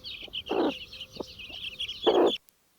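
A small chick roaming far from its broody hen, with hen clucks and soft chick peeps in a short nearby sequence of bursts that stops abruptly near the end.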